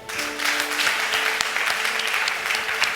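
A church congregation claps and cheers in acclaim of Jesus, the clapping loud, close and quickly irregular, with a sustained tone held underneath.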